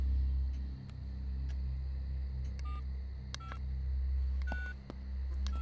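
Telephone keypad tones as a number to a police station is dialed, a few separate short beeps spread over several seconds above a steady low rumble, with no speech.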